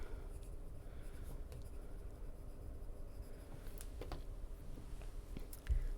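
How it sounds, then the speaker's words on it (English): A pen writing a note in a book, faint soft scratching strokes in a quiet room, with a light knock near the end. "Let me write marked passage."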